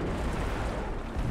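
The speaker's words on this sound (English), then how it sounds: "that sounds like a rocket" A rocket hit in War Thunder during T95E1 tank gameplay, a short dull rumbling boom with low heavy body, close and loud, lasting about a second.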